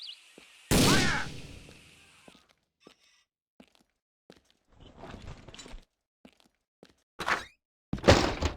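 Gunfire in the Boiling Point: Road to Hell video game: a loud opening shot with ringing tail, then scattered sharp cracks and thuds, ending in a pair of close bursts.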